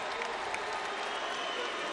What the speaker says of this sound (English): can we give a round of applause for Andy Ruiz, the new heavyweight champion?